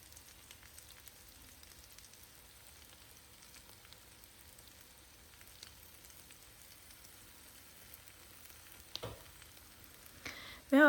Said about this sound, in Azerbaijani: Bunu bu formada çevirirəm. Hər iki tərəfi yaxşı pişsin deyə.